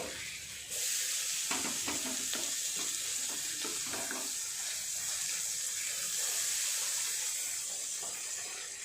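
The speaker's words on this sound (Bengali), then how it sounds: "পেঁয়াজটা ভাজা হয়ে গেছে, এবারে দিয়ে দেবো টমেটো কুচি।" Chopped tomato hits a hot pan and sizzles steadily, with soft stirring scrapes early on, a close, even hiss and no talking.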